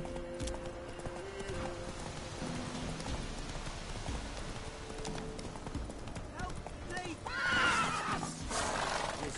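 In The Witcher 3, a horse whinnies near the end while hoofbeats clip-clop beneath it, over a steady rain-like hiss and game ambience.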